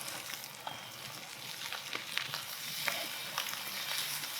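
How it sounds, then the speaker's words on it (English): Strips of bacon sizzle and crackle steadily on a hot griddle, a dense, even frying hiss with scattered pops and no talking. "That's the sound we wanna hear, that nice sizzle."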